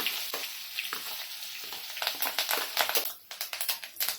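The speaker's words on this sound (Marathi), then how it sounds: "मी पटकन लसूण आणि मिरची आपण कुटून घेतला ना ते टाकून घेऊया" Crushed garlic and green chili hit hot oil already crackling with cumin and mustard seeds, a loud close sizzle with sharp popping bursts that briefly dips, then spits again.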